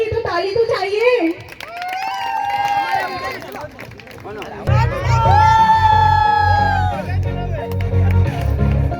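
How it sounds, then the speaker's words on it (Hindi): Sangeet ceremony crowd cheering and clapping for the bride's dance, with shouts and whoops over music and a host's amplified voice, the applause swelling loudly midway. "जोरदार तालियों के साथ दोस्तों स्वागत कीजिए।"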